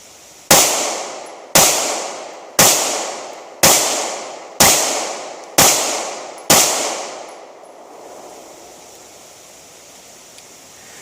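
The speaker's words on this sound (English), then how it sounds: "after firing the Remington R51 9mm pistol" Seven sharp shots from a Remington R51 9mm pistol ring out at an outdoor range, evenly spaced about a second apart, each loud crack trailing into a short echo before the air falls quiet.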